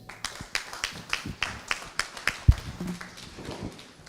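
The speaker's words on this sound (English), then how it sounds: "You can clap for Vincent." Sparse, scattered clapping from a small conference audience after a presentation, a few distinct claps spaced out unevenly, fairly close and fading toward the end.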